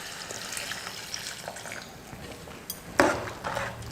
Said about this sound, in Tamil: இப்போ நான் அந்த பருப்பு வேக வச்ச தண்ணியை ஊற்றிக்கிறேன்.